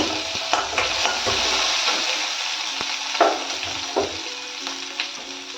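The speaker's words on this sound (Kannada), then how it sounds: "ಈಗ ಉದ್ದಕ್ಕೆ ಹೆಚ್ಚಿಟ್ಕೊಂಡಿರೋ ಹಸಿಮೆಣಸಿನ್ಕಾಯಿನ ಹಾಕ್ತಾ ಇದ್ದೀನಿ" Green chillies, slit lengthwise, crackle and sizzle in hot oil while a spoon stirs the pan, giving a steady hiss broken by a few sharp scrapes and clinks nearby.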